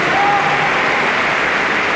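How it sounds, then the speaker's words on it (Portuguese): Loud, dense applause from an audience at a school graduation ceremony honoring graduating students, sustained clapping from a large crowd with a faint voice at the start. "Uma salva de palmas para eles"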